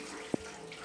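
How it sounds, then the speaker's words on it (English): Water runs steadily from a kitchen tap as leafy greens are washed under it, a close continuous hiss with one brief low thump partway through. "with running water"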